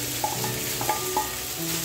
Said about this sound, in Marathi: आता इथे मिरची परतून घेतली आणि आता त्याच्यामध्ये मी पहिले हे जे साबुदाणे आहेत ना हे टाकून